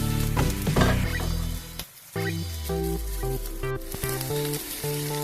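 An egg frying in a pan, a bright crackling sizzle heard under prominent background music, with a brief pause partway through before the sizzle resumes.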